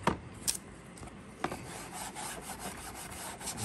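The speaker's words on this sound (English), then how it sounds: "with your Scotch-Brite, just go in and we'll just go ahead and scuff our edges real quick" Scotch-Brite pad scuffing the edges of a painted track, a steady, close, dry rubbing rasp with a few sharper scrapes early on and no talk.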